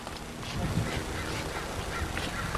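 Geese or ducks honking at an emptied water park, with repeated calls over a steady, loud wash of background noise and no talk.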